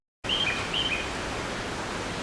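An electronic chime mimicking a bird call plays from a loudspeaker in a Japanese train station, two short chirping trills over a steady hiss of station noise.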